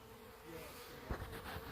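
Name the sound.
honeybees buzzing in a wintering hive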